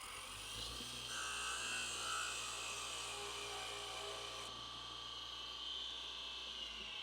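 Tiny wooden bowl being parted off on a lathe with a small 1/16-inch parting tool, a steady high whine of the spinning workpiece and cutting edge against a low motor hum, close and continuous with no talk.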